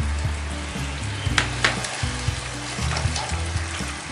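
Washed fried moong dal sizzles in hot oil in a pan, a close steady frying hiss with a few sharper spatula scrapes and clinks partway through, alone without any voices.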